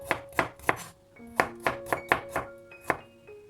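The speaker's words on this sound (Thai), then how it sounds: "จากนั้นเราก็จะหั่นบางๆ นะคะ" A knife thinly slices vegetables on a cutting board in a kitchen preparing a French-style keto salad. About ten crisp, close chopping strokes come in a quick, slightly uneven rhythm, with faint ringing between cuts.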